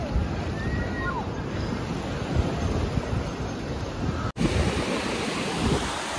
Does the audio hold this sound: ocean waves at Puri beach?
yes